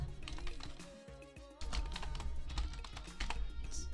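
Quick, irregular clicks of fingers typing on a computer keyboard, close and fairly quiet, in short bursts with a brief pause partway through.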